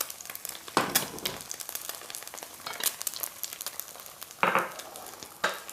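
Egg frying in hot oil in an iron wok, a steady crackling sizzle broken by several sharp loud bursts of spitting and popping, close and without voices.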